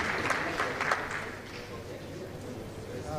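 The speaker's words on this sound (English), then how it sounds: "Round of applause to Mr. Dai, please." An audience at a panel discussion applauds in a steady patter of clapping, moderately loud, fading slightly toward the end, with some voices mixed in.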